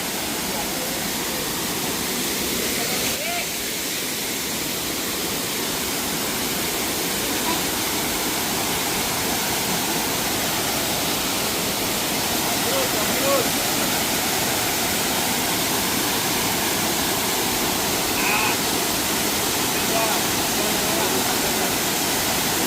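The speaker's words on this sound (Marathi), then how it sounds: "जाता जाता पुन्हा एकदा तुमका दाखवते धबधबो" A waterfall in Konkan roars continuously and evenly for the whole stretch, loud and close, with faint voices mixed into the rushing water.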